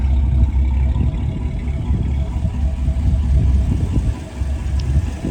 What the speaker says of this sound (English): Nice burble to the exhaust.